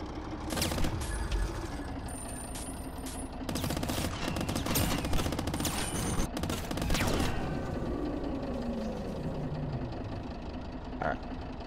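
Gunfire in the video game Squirrel with a Gun, a run of loud shots and rattling bursts over a droning engine rumble, with a descending mechanical whine toward the end.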